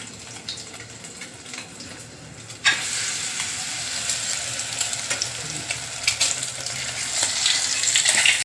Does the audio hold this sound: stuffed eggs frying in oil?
yes